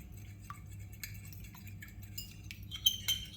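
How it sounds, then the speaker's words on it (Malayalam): A fork clinks and scrapes against a bowl while mashing egg yolk, soft irregular taps, quiet and close, with a faint steady hum beneath. "ഒരു ഫോർക്ക് വെച്ചിട്ട് ഈ മഞ്ഞക്കുരു ഒന്ന് ഉടച്ചെടുക്കുക."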